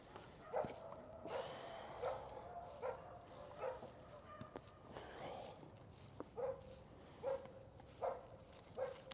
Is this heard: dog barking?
yes